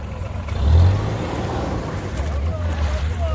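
A Toyota off-road vehicle accelerates at a 2023 off-road competition in Pryluky, its engine a deep, steady rumble that swells briefly and then holds, with wind-like noise over it.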